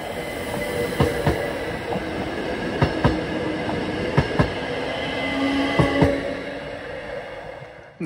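A diesel train runs on a narrow-gauge railway, heard from on board with a continuous loud rumble, repeated rhythmic wheel clacks over rail joints and occasional faint squeals.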